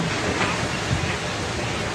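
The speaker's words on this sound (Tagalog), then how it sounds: "Yan ang lakas ng hangin." Dense, roaring typhoon wind noise blasts continuously and loudly, a steady broadband rush outdoors during Typhoon Uwa.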